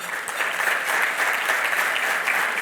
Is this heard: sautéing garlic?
no